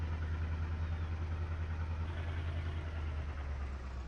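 Simulated tractor engine in Farming Simulator 22, a low steady idling rumble with a faint clattering texture, fairly quiet and continuous throughout, no talk.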